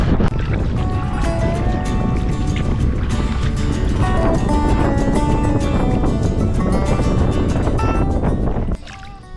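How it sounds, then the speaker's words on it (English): A kayak paddled on Myall Lakes, with steady splashing and wind-buffeted water noise close to the microphone, rhythmic and continuous before dropping away at the end. "so I better get paddling."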